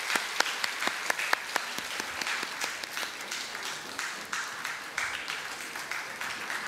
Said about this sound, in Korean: 우리 박수로 한번 쳐주시기 바랍니다.